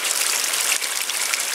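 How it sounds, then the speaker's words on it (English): Water rushes out of a developed spring box as it is released and flushed, a steady, loud gushing that runs continuously and close by without a break. "Flush everything out."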